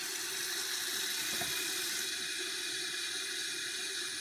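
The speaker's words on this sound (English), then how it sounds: "Let's get some water up in here." Water poured into a cooking pot for beans and ham on a wood stove, a constant bright rushing hiss of running water, steady and moderately near throughout.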